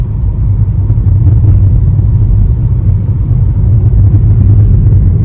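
Inside a moving car on a Saturday, a loud, steady low engine and road rumble fills the cabin with no one speaking.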